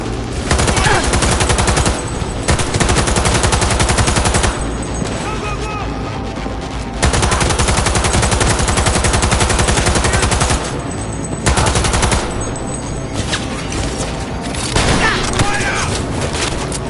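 Heavy sustained gunfire from the video game Cyberpunk 2077, dense automatic bursts and booms filling the scene with only brief dips, loud and continuous, with shouted voices mixed in.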